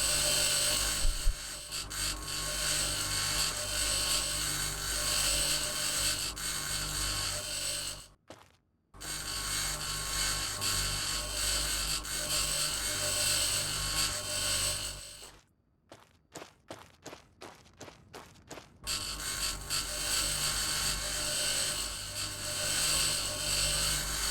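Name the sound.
grinder tool scrapping parts in video game Occupy Mars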